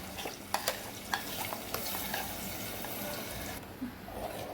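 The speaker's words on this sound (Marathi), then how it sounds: "तर वाटण आपण तेल सुटेपर्यंत परतून घेऊया" A ground masala paste sizzles steadily in hot oil while a spoon stirs and taps against the pan, giving a close, continuous frying hiss broken by several sharp knocks, with no voices.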